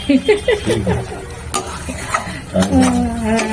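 Cauliflower being sautéed in ghee for a Bengali royal cauliflower dish, with loud scraping strokes of a spatula against the pan over a sizzle, in an irregular rhythm, close up.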